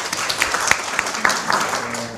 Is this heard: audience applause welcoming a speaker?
yes